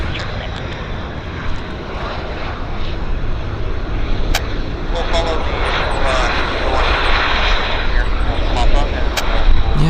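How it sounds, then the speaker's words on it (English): A CRJ regional jet lands at Vancouver airport, a loud sustained engine roar and rumble building toward the end of the stretch, with a person talking over it. "Decent landing on the CRJ."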